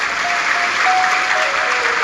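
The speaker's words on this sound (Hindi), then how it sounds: "एक बार जोरदार ताली बजाकर स्वागत करें।" A crowd at a Hindu religious discourse on Shiva lingas breaks into loud, sustained applause to welcome a visiting saint, dense steady clapping filling the whole stretch.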